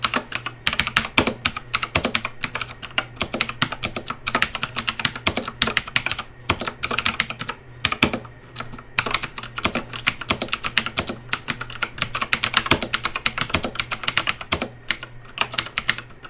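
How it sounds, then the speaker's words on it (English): Fast, continuous typing on a clicky Razer BlackWidow Chroma V2 mechanical keyboard, with dense, crisp key clicks close up and brief pauses between bursts, and no voices. "here's a quick typing test so you can hear the clickiness of the keyboard"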